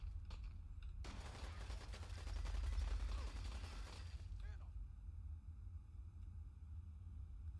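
A burst of rapid gunfire from the video game Fallout 4 lasts about three seconds over a steady low background hum. A few faint pops follow.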